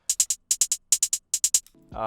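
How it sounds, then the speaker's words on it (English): Crisp, close hi-hat ticks come in quick groups of three, repeated four times, before a brief rising tonal sound ends the pattern. "It's just this like weird triplet repetitive hi-hat pattern."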